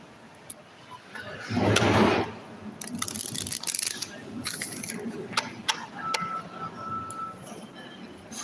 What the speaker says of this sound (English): let me go ahead and shuffle one more time.